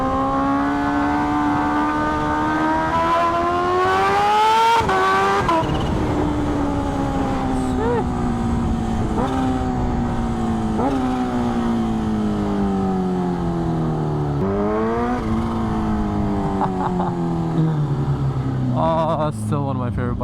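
Superbike engine pulling hard while riding, a loud continuous whine that climbs in pitch through repeated gear changes, with brief dips between shifts, heard up close with no talk.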